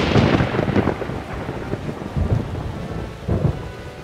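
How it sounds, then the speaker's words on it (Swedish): Loud thunder rolls and rumbles through a heavy rainstorm, with deep booming bursts at the start and again near the end over the steady hiss of rain, and no voices. "Oj, vad det dundrar."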